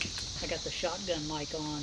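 Cicadas buzz outside a garage in a thin, constant high-pitched drone behind close, clear speech that runs through the whole moment.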